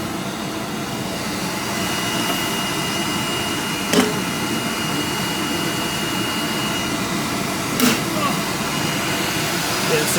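A waste motor oil burner with an air-siphon nozzle roars steadily with a continuous loud rushing hum, broken by a couple of faint clicks.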